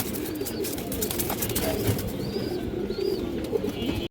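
A female pigeon with silver patterning and kajla markings coos in low repeated pulses close by, with faint chirps and rustling in the background.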